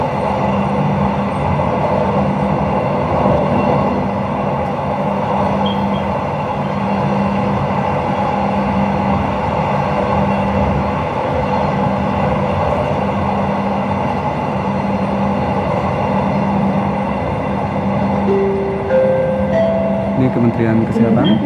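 A Jabodebek LRT train rides through Jakarta toward Kuningan station, a loud continuous interior rumble with a steady low hum and rail noise throughout, with faint speech and a short announcement chime near the end.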